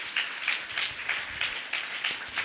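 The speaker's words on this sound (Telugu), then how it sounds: "అర్థమైతే గట్టిగా చప్పట్లు కొట్టండి" A church congregation at a Telugu resurrection worship sermon claps in rhythmic bursts, moderately close, with evenly spaced beats repeating steadily across the moment.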